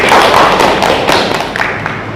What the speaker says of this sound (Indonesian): Adit, kita kasih aplaus dulu tadi.